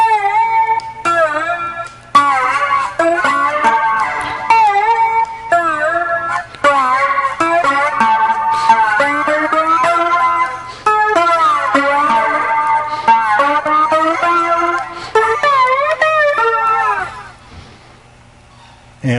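An electric guitar plays a full passage alone, with bluesy bends, slides and quick repeated phrases sustained throughout before stopping near the end.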